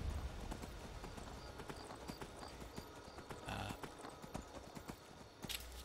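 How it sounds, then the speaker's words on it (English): Horse hooves clip-clop steadily on the ground in the video game Skyrim, from the black horse Shadowmere, a continuous rhythmic stream of hoof falls with an occasional faint whinny and game ambience. "You gotta have Shadowmere if you're gonna have the Sneaky Thief and Assassin characters. Best horse in the game"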